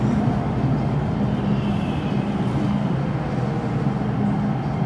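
Subway trains rumble steadily through Tai Koo station, a continuous loud low roar of rail cars on the track filling the whole stretch without pause.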